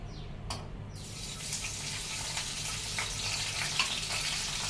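Green chillies dropped into hot oil for a village-style prawn tomato curry, starting with a sharp hiss that settles into a steady, close frying sizzle with no talk.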